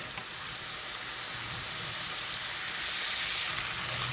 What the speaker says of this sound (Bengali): এখন আমি সুন্দর করে মশলাটা কষিয়ে নেবে ভালো করে কষিয়ে নিয়ে তারপরে জল দিয়ে দেবো